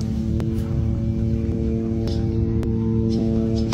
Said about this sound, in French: Ça c'est le bruit du drone, ça.